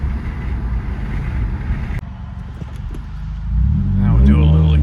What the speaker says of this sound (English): This exhaust is loud. Just cruising, you can really hear it. And the turbo, we can just hear the turbo.